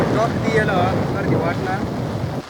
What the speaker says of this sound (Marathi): वर तर वारा जबरदस्तच